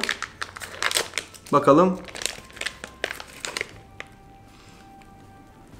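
Plastic wrapping of a US military MRE ration pack crinkles and crackles up close in bursts, with a louder tearing rustle partway through and a brief spoken word over it.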